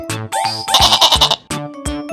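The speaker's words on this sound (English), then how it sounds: "Goat," A goat bleats loudly and close, a wavering, nasal cry with a rapid tremolo in the middle, set between short musical notes.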